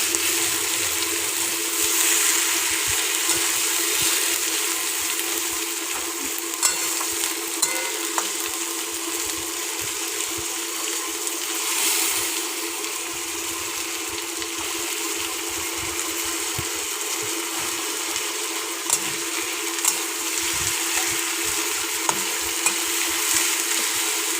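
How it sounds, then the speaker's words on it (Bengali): Onions and tomatoes fry in a pan, a steady close sizzle with scattered small pops and crackles that goes on unbroken throughout, with no voices. "এরপরে টমেটো দিয়ে মা পেঁয়াজগুলো আরও ভালো করে ভেজে নিচ্ছে"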